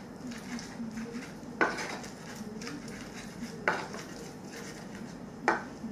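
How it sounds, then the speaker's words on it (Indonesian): Rhythmic pounding and grinding of a large batch of chilies in a mortar and pestle, with three sharp knocks at regular intervals over a steady scraping texture, close up and with no talk. "ngulek cabainya sebanyak ini tapi harus semangat"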